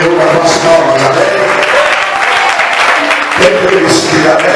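A church congregation claps hands together in praise, a steady dense patter of many palms over voices and tonal sound for several seconds.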